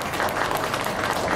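An audience claps steadily for Lakshmi at a talk-style class session in Moulali, with dense, even applause filling the room throughout.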